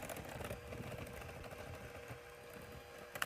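Electric mixer beaters whir through batter with a faint, steady motorized buzz and soft rhythmic churning, ending with a brief clatter.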